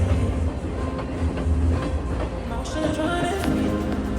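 A passenger train runs through Peradeniya Railway Station in Sri Lanka, with a constant low rumble and rhythmic wheel clatter over the rails, heard close and continuous from on board.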